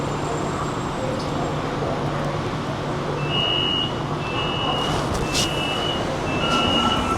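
Constant low rumble and rattle of a Shanghai metro train in motion, heard from inside the carriage, with brief high squeals and tones rising over the steady ride noise.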